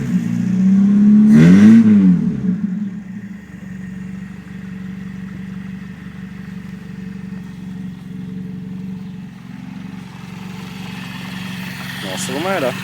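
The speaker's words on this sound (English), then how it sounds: "I'll give it a quick rev." A Toyota Corolla KE30 engine, started for the first time in 18 years, gives a quick loud rev near the start and then settles into a steady idle, with a person talking over it.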